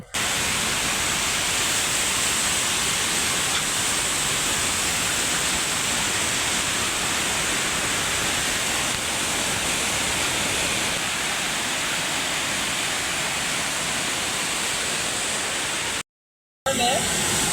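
Water rushing forcefully through a gate at Jallampalli reservoir, a loud, steady, broadband roar that continues without a break and cuts off abruptly near the end.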